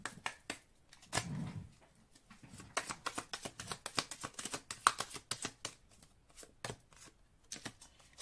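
Message cards being shuffled and drawn at close range, a run of quick papery riffles and soft taps with brief pauses, no talking.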